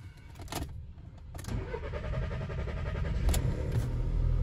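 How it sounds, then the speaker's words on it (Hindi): A Volkswagen Polo TSI petrol car's starter cranks, starting faintly and building into a steady, louder mechanical churn that runs continuously, with a couple of sharp clicks near the start and later, close up. "तो एक बार सेल्फ मारते हैं, देखते हैं हाफ सेल्फ हो रही है नहीं हो रही है"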